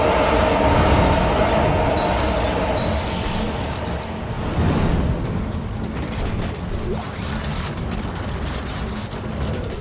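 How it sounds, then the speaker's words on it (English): A train car in the video game Dead Space 2 rumbles and clatters continuously, with metallic rattling and grinding over a dense, loud roar. "That was a nice, quiet little train car."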